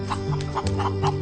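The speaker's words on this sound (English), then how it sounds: "And these are very happy chickens." Contented farm chickens cluck close by in a short, busy series of overlapping calls, with steady low background noise.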